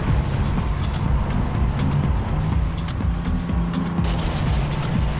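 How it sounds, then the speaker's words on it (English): Heavy gunfire and booming blasts rumble through a World of Tanks battle as a ToG II tank fights, with a nearby artillery shell impact amid continuous engine drone and sharp crack-like bursts. "I think there was an artillery shell very close."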